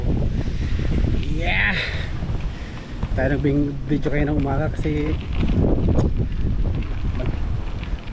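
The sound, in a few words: wind blowing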